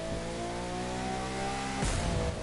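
A Dodge Charger in The Crew 2 racing game revs its engine, a steady droning roar that swells sharply near the end, loud and alone without talk.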